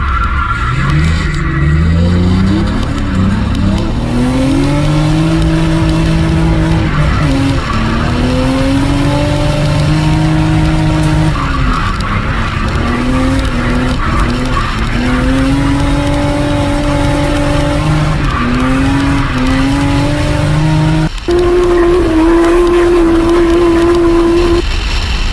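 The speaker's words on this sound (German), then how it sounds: "Richtig gespannt wieder drauf auf meinen alten RB-Motor. 6-Zylinder, RB25, schauen wir mal, wie das funktioniert heute." A Nissan Skyline R33 with an RB25 six-cylinder engine drives on a track, its loud engine note climbing and dropping repeatedly through the revs without pause, and no one speaks.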